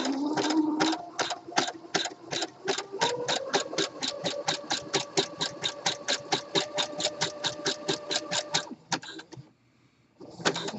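A sewing machine runs a 3-step zigzag stitch to attach elastic to swimwear fabric, producing a fast, even series of mechanical clacks up close, pausing briefly near the end before starting again.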